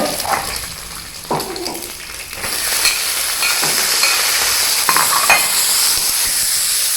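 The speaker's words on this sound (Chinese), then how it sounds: "刚刚树上那个摘的苦瓜，马上就要下锅了" Freshly picked bitter gourd stir-frying in a wok, sizzling and hissing that swells louder partway through, with occasional scraping and clatter nearby.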